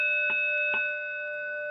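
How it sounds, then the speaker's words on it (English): Voting bells ring in the Connecticut House chamber as steady overlapping electronic tones, marked by two brief clicks, with the level dropping partway through. "the House chambers filled with the sound of nonstop voting bells"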